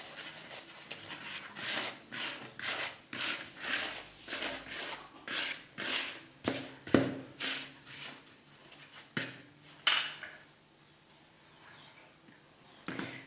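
Fine semolina and sifted flour are stirred together in a bowl, giving a steady run of soft, rhythmic scraping and rubbing strokes close by, about one stroke every half second, with no talking.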